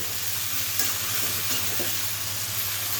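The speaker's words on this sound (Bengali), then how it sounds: "এখন আমি লাউ হচ্ছে সব মশলার সঙ্গে সুন্দর করে একটু মিশিয়ে নিব।" Bottle gourd stirred with spices in a hot pan for a village-style rohu fish curry, a steady close sizzle running throughout with soft scraping stir strokes and no talking.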